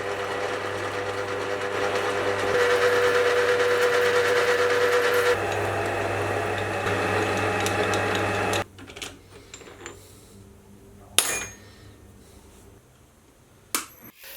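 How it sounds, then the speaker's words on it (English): Steel planet gears being cut from 25mm bar stock on a milling machine with a dividing head: a steady loud mechanical whir for about nine seconds, then it stops, leaving quieter clicks, knocks and handling sounds. "I have some 25mm bar stock, which I'll take down to size and then get them cut in the mill using the dividing head"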